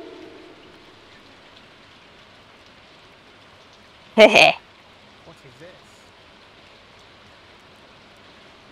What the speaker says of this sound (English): This is green rain